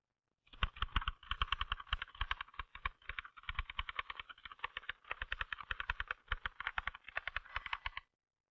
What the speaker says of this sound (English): typing motions are confined to your fingers